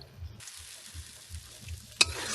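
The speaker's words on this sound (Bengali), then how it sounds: "দিয়ে এখন এটা কষিয়ে নেবো" Ground aromatic rice flour sautés in a pan for a pumpkin curry, a soft steady sizzle with rhythmic low stirring scrapes and one sharp clink near the end, with no talk.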